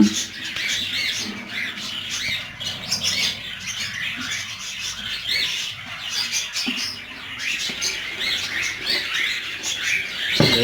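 Ringneck parakeets and their young chicks in an aviary give repeated harsh squawks and chirps, fairly close and steady throughout, with no talking.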